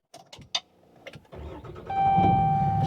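A few clicks and clunks come first, then a 2012 Ram 6.7L Cummins diesel engine cranks over and settles into a steady running drone.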